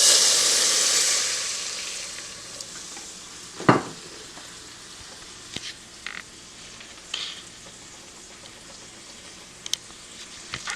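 Whisking milk for a cheese sauce as it warms in a pot on the stove, a steady soft sizzling hiss with a few sharper scrapes and clinks of the whisk, no talking.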